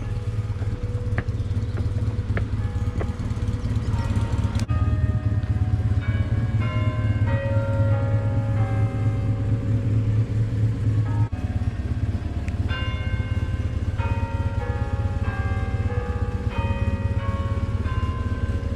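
Church bells in Peebles, Scottish Borders, ring out in a steady pattern of bright, repeating tones over a constant low rumble of traffic or engines, heard outdoors at moderate distance.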